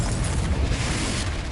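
A Confringo spell blast in Hogwarts Legacy, a dense, loud explosive roar with heavy low rumble sustained through the whole moment, no voices over it.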